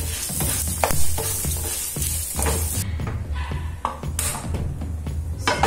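Fenugreek and coriander seeds fry in a pan with a crackling sizzle and scraping stirs, close by. The sizzle drops away partway through and later returns faintly.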